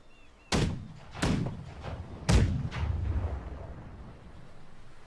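Ship cannons in the pirate naval game Blackwake fire in a close, heavy series of booms, three main blasts with echoing tails and rumbling decay, no talk over them.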